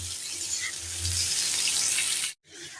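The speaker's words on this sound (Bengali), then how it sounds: "আলু আর পেঁয়াজটা খুব সুন্দর করে ভাজা হয়ে গেছে" Potatoes and onions fry slowly over low heat in a pan, giving a steady, close hissing sizzle that continues almost without a break until it cuts out briefly near the end.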